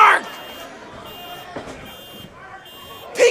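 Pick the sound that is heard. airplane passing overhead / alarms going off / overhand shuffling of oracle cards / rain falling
alarms going off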